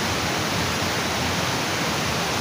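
Heavy rain pours steadily in cold weather at Kankata, a dense unbroken hiss of water at constant loudness with no voices over it.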